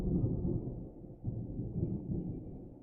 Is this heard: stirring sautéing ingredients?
no